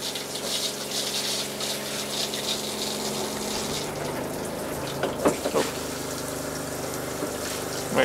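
Water runs from the shower head of an Outback Keystone 230RS camper trailer during winterizing, a steady gushing spray over a low pump hum, with a few clunks near the end.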